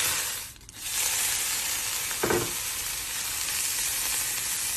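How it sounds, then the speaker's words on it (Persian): Ingredients such as barberries with sugar, raisins and slivered pistachios and almonds sautéing in butter for Persian morassa polo, with a steady close sizzle broken by a brief stirring scrape. "حالا به ترتیب همه موادمون رو تو کره تف می‌دیم"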